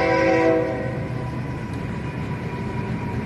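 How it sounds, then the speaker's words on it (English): A train passes close by, sounding a sustained horn blast at the start and then rumbling on in a steady, loud roll of railcars, with no talking. "Train."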